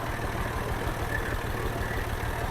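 A tractor engine runs steadily with a low, even idling rumble that holds the same level throughout, close by and with no one talking.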